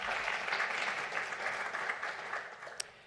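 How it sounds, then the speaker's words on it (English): Applause from an audience at a university state-of-the-university address, a steady wash of many hands clapping at moderate distance that holds for about three seconds and thins slightly toward the end. "So let's give her a round of applause as well"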